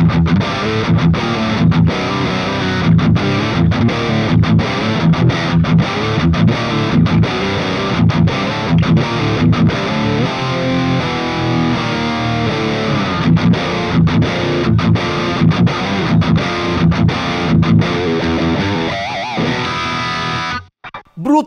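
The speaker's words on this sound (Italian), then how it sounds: "non posso dire che sia brutta con questa distorsione" A PRS electric guitar set up for hard rock and metal, played through heavy distortion: loud, dense chugging riffs with rhythmic muted stops, continuous for about twenty seconds before cutting off abruptly.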